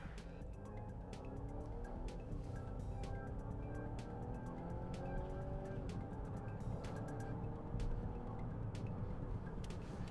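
A 2022 Volvo XC90 B5 mild hybrid accelerating hard from a standstill to 100 km/h on a wet road, its engine note rising steadily through the gears, heard from inside the cabin as a continuous muffled drone.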